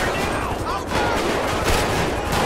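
Sustained gunfire in the GTA 5 police mod, a dense, continuous fusillade of rapid shots at steady loudness with a voice shouting over it.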